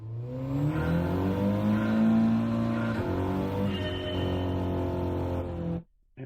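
A car engine revs up and holds a strained, rising drone at a live Gold Coast racing event, loud and steady for several seconds before cutting off abruptly.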